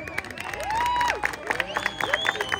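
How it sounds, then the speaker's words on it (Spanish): A crowd at a presidents' tournament final in Tecolutla applauds for the Coautla finalists, a scattered patter of claps and cheers under an announcer's voice and a wavering whistle-like tone. "El aplauso para Coautla"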